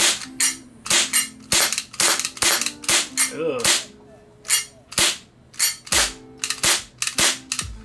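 An ISSC M22 airsoft gas blowback pistol fires a dozen or so sharp, snappy shots in an irregular rapid sequence, close and loud, with faint metallic slide clatter and a brief grunt from a person.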